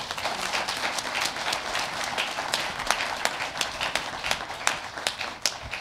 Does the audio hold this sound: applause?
yes